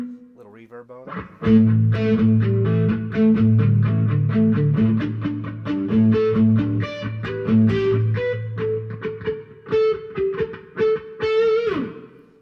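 Electric guitar through a Headrush FRFR108 speaker strums a steady chord pattern with a reverb tail, notes ringing and blending into a washy sustain, then a final bend.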